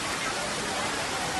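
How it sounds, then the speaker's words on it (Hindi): Heavy rain and fast floodwater rush across a road in Rajasthan, forming a dense, steady roar of water that fills the whole clip with no pauses. "भारी बारिश के बाद पानी का तेज बहाव सड़क पर देखने को मिला।"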